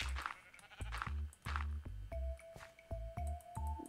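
A pink sheep in the Minecraft video game bleats repeatedly, short close, loud digital bleats in a quick irregular series, joined by a few high pinging game tones near the end, with no talking.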